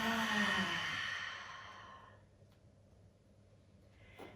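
A slow, breathy exhalation during yoga practice, a long audible sigh that fades gradually into quiet, heard close and alone.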